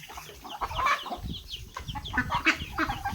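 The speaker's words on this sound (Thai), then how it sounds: "อันนี้ก็มีไก่น้อย" Several chickens and chicks cluck and peep continuously on a Thai farm where ducks are also kept, some close and some farther off, layered into a busy, overlapping chatter.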